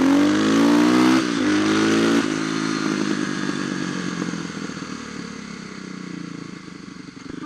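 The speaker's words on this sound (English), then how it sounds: "You want to see hard throttle on a low in second gear on a KLX 330?" A Kawasaki KLX 330 motorcycle under hard throttle in second gear, a loud close engine roar rising in pitch, dropping briefly at a shift point, then climbing again and fading as the bike pulls away, with no talking.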